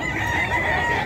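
A Sweater Gilmore gamefowl rooster crows at the Bocaue pet market, one sustained, fairly loud call over a dense backdrop of market noise and other fowl.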